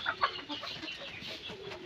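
Layer hens clucking in a poultry shed with fresh bedding: a few brief clucks near the start, then a softer, continuous mix of bird calls at moderate distance, with no talking.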